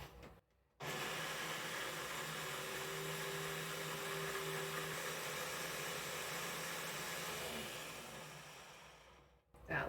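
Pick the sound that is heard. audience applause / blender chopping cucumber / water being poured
blender chopping cucumber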